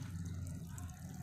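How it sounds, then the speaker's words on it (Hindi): Water poured into the soil of a potted lychee plant, a continuous low gurgling and trickling heard up close without talk. "देख सकते हैं हम पानी अच्छे से लगा देंगे ताकि नीचे तक ये चले जाए"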